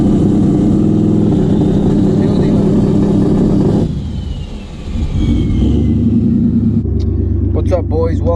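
A big single-turbo S550 Ford Mustang holds a steady, loud, droning rev on a two-step launch limiter at a track. The rev dips briefly, then the engine roars back to a sustained rumble, while a person talks nearby.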